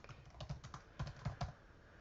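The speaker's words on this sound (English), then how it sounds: "And you'll notice as I'm typing that," Typing on a computer keyboard, a brisk irregular run of close, crisp key clicks in small clusters over two seconds, with no talking.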